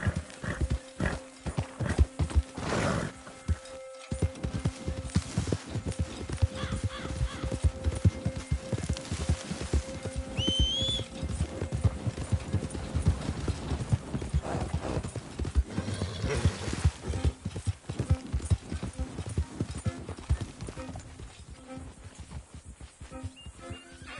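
Horse hooves clip-clop steadily on the ground in an open-world video game, a continuous rhythmic trot heard up close, with a brief whinny and faint ambient game sounds.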